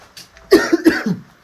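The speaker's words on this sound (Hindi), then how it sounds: "खांसी से मेरे बुरे हाल हो रखे हैं" A few harsh coughs close up, loud bursts in quick succession with a short pause between them, no talking.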